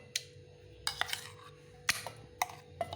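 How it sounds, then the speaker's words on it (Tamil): Custard apple pulp is spooned into a mixer jar, producing several sharp metallic clinks and scrapes of a spoon against the jar, spaced irregularly over a few seconds in a quiet kitchen. "இதை நம்ம வந்து மிக்ஸி ஜாரில் போட்டுக்கலாம்."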